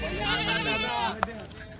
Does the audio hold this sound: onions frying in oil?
no